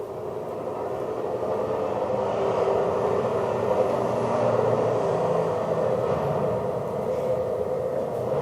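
Inside a military weather helicopter flying into the eye of a typhoon, a steady, loud broadband engine and rotor roar fills the cabin continuously with no talk.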